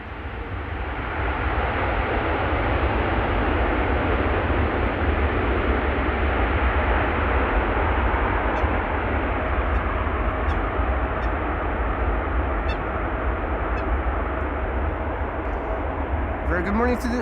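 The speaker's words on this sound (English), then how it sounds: "Air Europa arriving from Madrid, first airplane of the show." An Air Europa Boeing 787-8 Dreamliner arriving from Madrid gives a steady, broad engine roar, loud and sustained across the whole stretch, fading slightly near the end.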